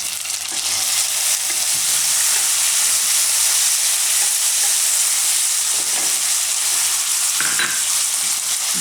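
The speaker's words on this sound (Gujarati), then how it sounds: "તો ડુંગળી આપણે થોડીક વાર આ રીતે ફેરવી લીધી તેલમાં. હવે આપણે એમાં નાખીશું ટમેટાં." Chopped onion and tomatoes fry in hot oil in a home kitchen pan, a loud, continuous sizzle with bursts of crackle and occasional stirring scrapes, no voices.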